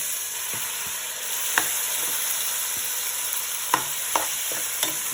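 Meat for dinuguan frying in a pan, a constant bright sizzle punctuated by several sharp scraping and tapping stirs, close and with no talking.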